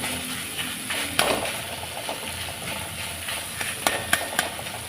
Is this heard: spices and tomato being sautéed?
yes